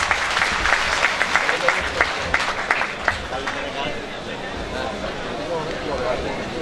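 An audience at a 2016 school reunion gives a guest a lively round of applause during a flower welcome. Crisp claps ring out over the first few seconds, then fade into a steady crowd murmur.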